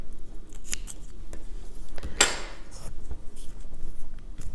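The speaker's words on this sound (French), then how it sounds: "on coupe une petite longueur" Scissors snip through crochet yarn once in a single sharp, close cut, surrounded by quiet handling noise and light tapping while a table-runner rug is being crocheted.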